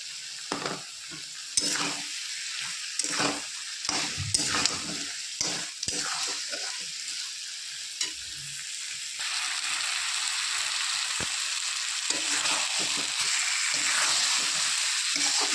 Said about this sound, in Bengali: ভালো করে মশলা কষিয়ে নিচ্ছি